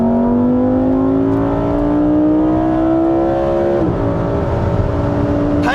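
A Lamborghini Huracan EVO's naturally aspirated engine roars loud and close, its exhaust note climbing steadily in a sustained rev before a brief upshift dip, then pulling on alone.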